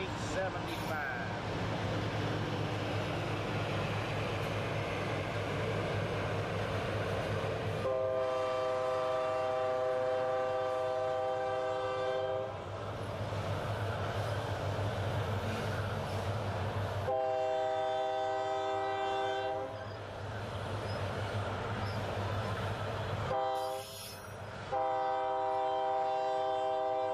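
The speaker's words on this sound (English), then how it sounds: "Santa Fe train 315 south of Crowley" A Santa Fe freight train rolls past south of Crowley, Texas, its loud horn sounding in several long, harmonic blasts over a continuous rumble and clatter of rail cars, close by and without talk.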